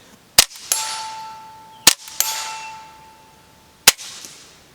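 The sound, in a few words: suppressed .22 rifle shot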